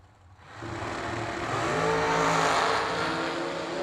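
Drag race cars launch side by side down the strip at an SFG Christmas Bash event, a loud sustained engine roar rising quickly after a brief quiet start and holding steady at close range with no talk.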